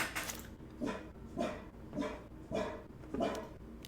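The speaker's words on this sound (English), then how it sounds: "He's doing his big, scary guard dog bark now." Five loud guard-dog barks come from a dog indoors in a steady, evenly spaced rhythm, close by with little else around them.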